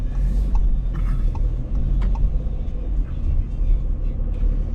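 Car maneuvering backward on a residential driving test route, a low steady engine rumble and road noise throughout with faint traffic sounds in the background.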